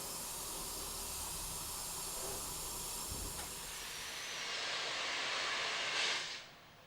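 Steady loud hiss of escaping steam from a British Railways Standard Class 5 steam locomotive restarting a nine-coach train, continuous and close, swelling briefly near the end before cutting off, with a faint low chuff underneath.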